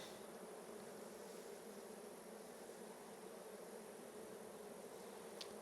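Honey bees drone inside a Langstroth hive that appears to have no queen, a steady close buzzing hum that holds evenly throughout, with a brief sharp buzz of a single bee near the end.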